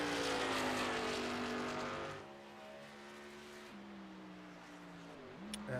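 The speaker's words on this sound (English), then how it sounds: "you hear him downshift. So they are going to be downshifting here tonight." A race truck in the iRacing game at New Hampshire Motor Speedway revs high and then drops through several downshifts, with stepped engine pitch falls and a brief blip near the end, at moderate distance.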